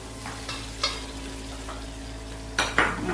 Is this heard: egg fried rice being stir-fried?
yes